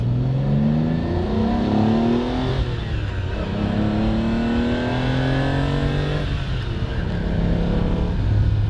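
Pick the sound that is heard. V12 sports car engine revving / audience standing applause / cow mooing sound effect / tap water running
V12 sports car engine revving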